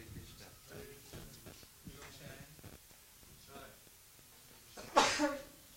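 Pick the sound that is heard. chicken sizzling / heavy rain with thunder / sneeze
sneeze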